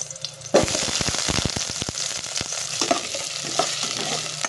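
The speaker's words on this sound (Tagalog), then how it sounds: "Magigisa tayo ng bawang at sibuyas." Garlic and onion sautéing in a pan, a loud sizzle bursting in abruptly and continuing close up, with scattered pops and stirring scrapes throughout.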